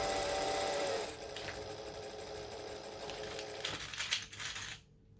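Sewing machine winding a full bobbin, a fast, steady mechanical whir and rattle that runs on at close range, changes pitch after a second, then stops abruptly near the end.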